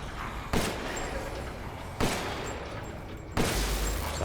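Three loud, sharp gunshots from a firearm in the survival horror game Resident Evil Village, spaced about a second and a half apart over a steady background hum, with no talking.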